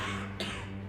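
A single short cough bursts out once over a steady hum of background noise.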